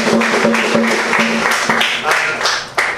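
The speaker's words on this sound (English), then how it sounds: "So give him a round of applause" Applause from a crowd for Councillor Paris at a steel band summer camp event, a dense patter of clapping with a steady tone and some voices mixed in, fairly loud and continuous.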